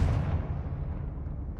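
A Confringo fire spell blast in Hogwarts Legacy, a single dense low rumbling burst that starts loud and decays steadily over about a second and a half, with no talk.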